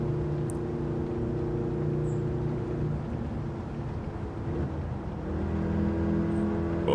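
Car engine droning at steady speed in a racing video game, a sustained tonal hum that shifts pitch partway through as if changing gear, continuous and fairly loud with no voices.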